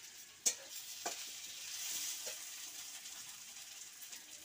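Drumstick vegetable and potato cooking over a fire, stirred now and then, giving a low, steady sizzle with a few sharp clicks of a utensil against the pot. The sound is faint and close, with no talking.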